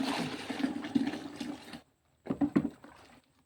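A liquid turmeric mixture is poured into a container, giving a steady splashing pour for nearly two seconds, then a pause and a few shorter, louder splashes before it trails off.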